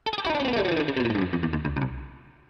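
A single muted electric guitar note from a Studio One Presence virtual instrument, processed with chorus and distortion, cuts off quickly into a short decaying tail.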